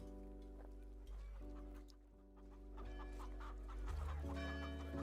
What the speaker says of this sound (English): a very angry chicken